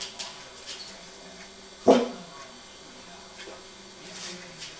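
A single dog bark, short and moderately near, cuts through a quiet room during a conversation.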